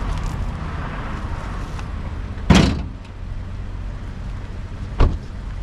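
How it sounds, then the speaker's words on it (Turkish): A car's engine hood is unlatched and lifted during a driving exam lesson, giving one sharp metallic clunk midway and a lighter knock near the end over steady outdoor background noise. "Motor kaputumuzu açalım."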